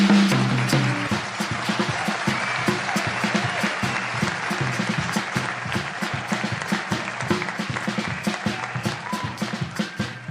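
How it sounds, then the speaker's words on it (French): A large audience at an awards ceremony applauds loudly and steadily for about ten seconds, dense continuous clapping close by with no voices over it. "on applaudit encore pour Daniel Bonham."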